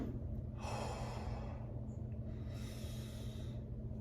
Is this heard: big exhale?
yes